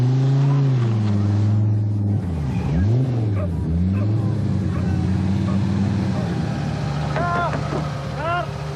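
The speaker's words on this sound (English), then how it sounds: "The marshals warn that the next car is approaching" An Opel Ascona 400 rally car approaches on a rally stage, its engine rising and falling loudly as it revs and shifts, with faint voices in the background.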